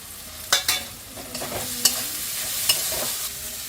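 Potato and small shrimp fry in a pan of soaked spice paste, giving a soft, steady sizzle. Sharp clinks and scrapes of a spatula stirring against the pan break in at irregular intervals, close up.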